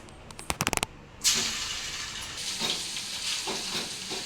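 Ginger dropped into hot oil left over from frying fish for a fish pickle bursts into a loud sizzle after a few sharp clicks, then settles into a steady close frying hiss with bubbling pops.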